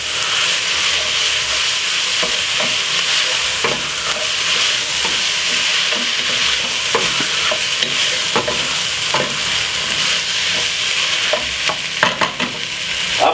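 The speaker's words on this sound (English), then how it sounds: "Give it a quick stir." Linguine being stirred in a frying pan for a Jamaican jerk pasta with mixed vegetables, a steady loud sizzle and hiss with repeated scraping stir strokes throughout, no talk.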